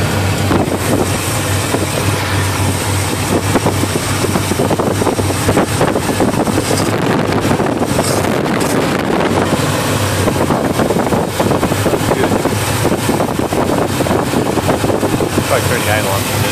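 A 1980 Chevy mud truck's bored 350 V8 with a fairly big cam idles steadily, a loud continuous low rumble throughout under wind noise, with someone talking over it.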